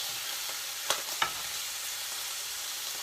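Thick cut bacon sizzles steadily in a pan, a broad close hiss with two brief sharp pops, and no talk.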